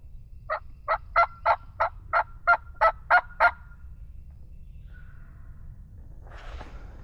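Wild turkey gobbling at a distance on public land, a run of about ten rapid, evenly spaced clucking pulses from one bird, followed by faint rustling against a low outdoor background.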